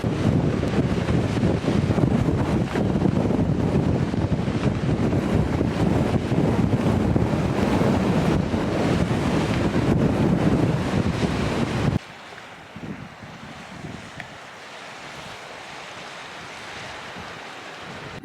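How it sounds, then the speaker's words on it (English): Strong wind roars and buffets the microphone by the sea in New Zealand, loud and continuous, then abruptly drops to a quieter, gustier rumble for the last few seconds. "our flight and boat have been cancelled today because it's so windy"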